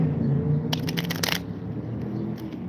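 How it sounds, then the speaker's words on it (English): A brief riffle of playing cards being shuffled for a card reading, a quick burst of crisp flutters over a low background hum, close and fairly quiet. "So we're going to go ahead and shuffle"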